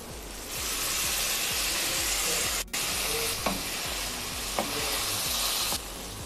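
Minced meat (keema) simmering covered over a low flame, giving a steady broadband sizzle and bubbling hiss that runs throughout with a couple of faint clicks, fairly close and without talk.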